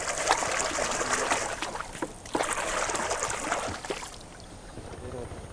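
Close water splashes and sloshes churn continuously in the Amazon, with brief sharper slaps, then ease to a calmer trickle near the end.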